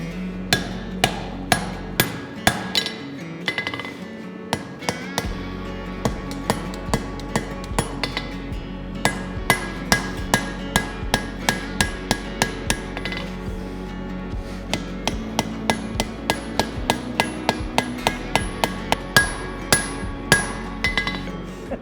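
Steady, rhythmic hand-hammer strikes ring out on a knife blade being forged, dozens of sharp metallic blows in a fast regular pattern, loud and close, each with a bright clinking ring and no talk over them.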